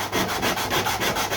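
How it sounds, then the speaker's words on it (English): Sandpaper rubbing on wood on a Fokker Triplane model build, a steady rhythmic back-and-forth scratching with regular strokes, close and alone. "I'm going to sand that down level with the top of"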